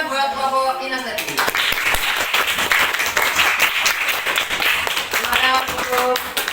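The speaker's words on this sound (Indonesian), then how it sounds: "Tepuk tangan buat kelompok kinestetik." Schoolchildren in an elementary classroom clap for a group during a teaching simulation, close and loud, with a teacher's voice heard at the start and again near the end over the clapping.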